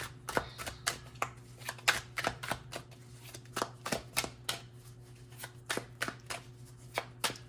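Tarot cards being shuffled over and over, a quick run of sharp riffling snaps in an uneven rhythm, close up with no talking.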